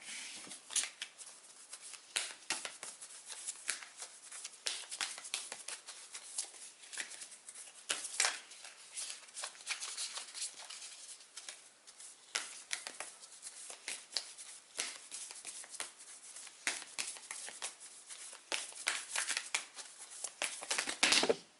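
Oracle cards being shuffled at a tarot reading: a dense, continuous run of crisp riffling and flicking card noise, close and fairly soft, with no talking over it.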